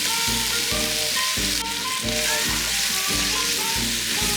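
An onion, celery and bell pepper trinity sizzles loudly in oil for jambalaya, a dense, constant close hiss with a regular beat of scraping stirs underneath.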